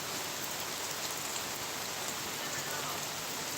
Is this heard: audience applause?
no